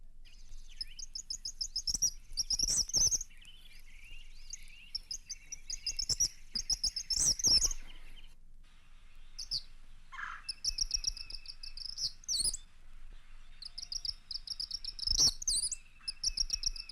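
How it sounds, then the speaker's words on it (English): High, thin chattering and sputtering calls of an eastern kingbird, a flycatcher, come in repeated bursts with short gaps between them, fairly close and clear, with faint insect-like trills in the background. "The eastern kingbird has one of the highest pitched voices in the flycatcher family."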